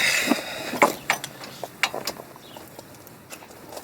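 A breaker bar tightens the spindle nut on a 1998–2002 Lincoln Town Car during a spindle swap, giving a few sharp metallic clicks and creaks in uneven bursts, close and fairly quiet.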